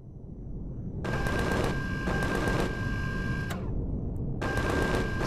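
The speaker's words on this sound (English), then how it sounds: "What are you guys shooting at?" Automatic gunfire in the Empyrion Galactic Survival video game: a long rapid burst of rattling shots, a short pause, then another burst, loud and mechanical with a steady tonal ring under the shots.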